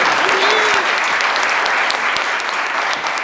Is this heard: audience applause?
yes